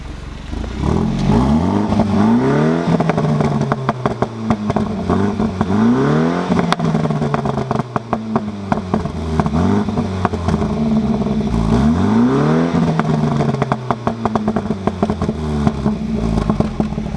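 A BMW F30 330i fitted with a performance exhaust in Sport Plus mode revs hard several times in a row, each sweep rising and falling, with loud crackling pops and bangs on the overrun, close and sustained with no talking.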